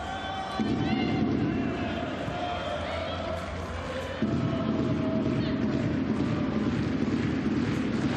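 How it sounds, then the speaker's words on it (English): A home crowd chants at a Bayern Munich women's Bundesliga match against FC Köln at the FC Bayern campus, a 2,500-capacity ground; sustained rhythmic crowd chanting grows louder partway through, with no talk over it. "Stand up for Bayern is the chant from the home crowd"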